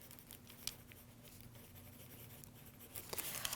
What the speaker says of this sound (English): I should write under collar on this one.